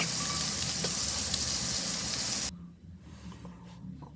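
French toast sizzles loudly and steadily in a frying pan, the hiss cutting off abruptly partway through to a much quieter background with faint clicks, no talking.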